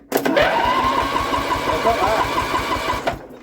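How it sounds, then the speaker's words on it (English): A Wheel Horse garden tractor's refitted starter motor, bridged directly, cranks the engine in a loud rhythmic churn for about three seconds up close, then stops abruptly. "We can temporarily just bridge this starter and see if that turns the engine."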